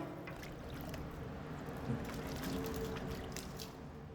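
Freshly made paneer cut into pieces is dropped into water to cool, giving a steady wash of splashing and trickling water in a busy working space, with no talk.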